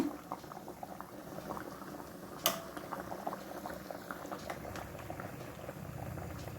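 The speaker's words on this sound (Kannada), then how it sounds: "ಸಾಂಬಾರು ಚೆನ್ನಾಗಿ ಕುದೀತಾ ಇದೆ" Cucumber sambar boiling in a pot on the stove, a faint, steady bubbling and popping with one sharper knock partway through, heard close with no talking.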